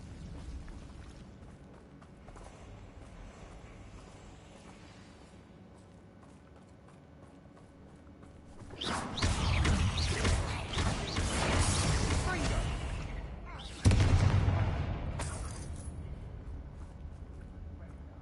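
Confringo blasting spell in Hogwarts Legacy bursting with a loud, roaring rumble that swells mid-scene, followed by a second sharp, heavy impact that decays over a few seconds, after a quieter stretch of ambient game sound.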